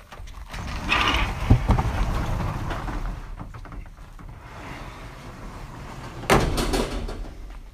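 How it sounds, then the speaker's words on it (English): A shop door is opened during a hurricane in Texas, giving a mid-level mechanical rattle and sliding scrape near the start, then a second sharp burst of handling noise toward the end against steady windy background. "Let me just open this door here, and it might."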